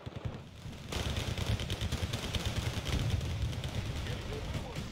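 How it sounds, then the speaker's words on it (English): Rapid gunfire and explosive launches from a grenade launcher in a tank battle video game, a dense continuous barrage of close, loud shots with commentary voice over the top. "Grenade launcher coming in"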